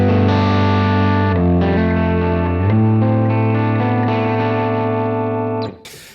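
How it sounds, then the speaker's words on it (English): Les Paul Standard 50s electric guitar through a UAFX Enigmatic Dumble-style overdrive, sustained overdriven chords shifting a few times and ringing out, loud and close with no talking. "here's my Les Paul Standard 50s into my very own Dumble Overdrive special in form of the UAFX Enigmatic"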